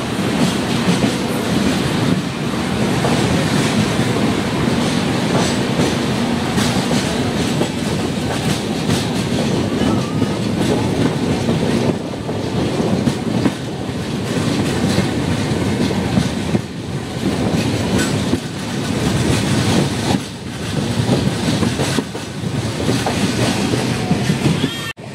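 Tinsukia to Bengaluru Express rolling along the rails past Kokrajhar in Assam, a steady loud rumble with rhythmic clickety-clack of wheels over rail joints throughout, continuous and close.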